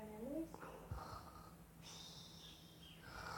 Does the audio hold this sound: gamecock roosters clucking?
no